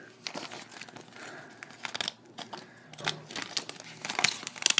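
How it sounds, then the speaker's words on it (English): Plastic Pokémon card sleeves are cut with scissors, giving close, quiet snips and crinkling rustles in irregular bursts that grow busier toward the end. "all you need is a page of sleeves and some scissors"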